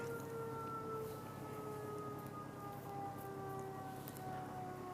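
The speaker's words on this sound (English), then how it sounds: "Siren is in the background while I put my headband on and look scary." A wailing siren rises and falls steadily in the distance, continuous under a low background rumble, with no talking.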